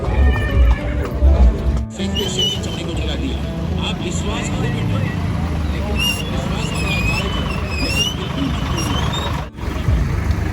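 Horses at the Muktsar horse fair, a Maghi Mela gathering of colts and stallions, neigh in shrill repeated whinnies amid hoof clip-clops, a busy outdoor crowd and people talking nearby.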